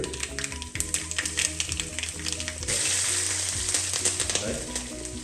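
Green chillies sizzle loudly in hot oil with chana dal and urad dal for a raw mango pappu tempering, a dense steady crackle with light spoon taps; no one talks.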